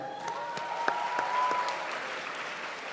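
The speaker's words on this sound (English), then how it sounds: "The two names which I would like to mention with a round of applause is Abigail and Arnav." An audience claps at a school Model United Nations closing ceremony, a steady, moderately loud round of applause with scattered sharper claps that holds for the full few seconds before easing slightly.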